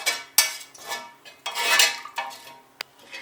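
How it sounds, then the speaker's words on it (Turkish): Metal spoon scraping dried fat and cream from the rim and corners of a pot down into homemade yogurt, a run of close, sharp scrapes and clinks in uneven rhythm with no talking. "Hemen şöyle kenarına, köşesine kuruyan yağları, kaymakları şöyle içerisine sıyırıyorum."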